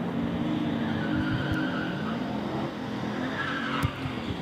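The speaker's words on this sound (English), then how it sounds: "Tommy Rosema in the S13 on the right-hand side is going to try to get there and follow the LSA supercharged on the left-hand side" Street race cars, a Nissan S13 and an LSA-supercharged car, launch and accelerate with roaring engines and a squeal of tires, loud and continuous throughout.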